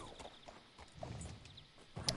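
Horse hooves clop in a short, soft run of steps in the video game Red Dead Redemption 2, faint and alone without talk.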